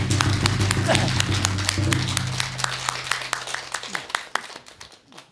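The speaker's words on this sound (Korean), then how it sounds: "이런 큰 박수로 맞이하겠습니다." Crowd applause at a Buddhist dharma talk welcoming a senior monk, a dense patter of claps over low hum that thins out and fades near the end.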